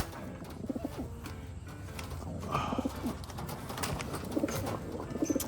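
Racing pigeons cooing at close range, soft repeated low coos scattered through a faint, busy background, with a few brief chirps mixed in.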